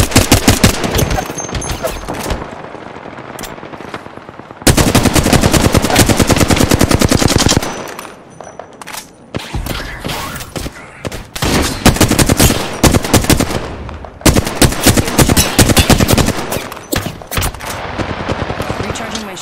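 Sustained bursts of automatic gunfire in a shooter game, loud and dense, broken by short pauses between volleys, with game sounds and occasional voices mixed beneath the firing.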